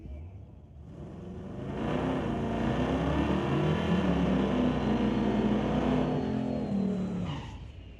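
A Corvette and a Camaro launching side by side at a drag strip, engines swelling into a loud sustained roar that builds, holds, and fades as the cars run away down the track; a faint announcer's voice is audible.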